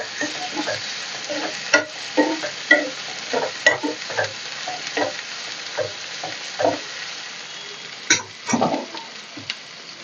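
Finely chopped small tomatoes frying in a pan for a mutton kheema dish, with a soft steady sizzle broken by frequent scraping and stirring clatters from a utensil.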